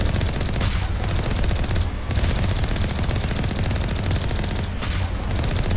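Gunshots in the video game Mass Effect, with dense, continuous rattling gunfire and a few sharper cracks standing out, loud and close throughout.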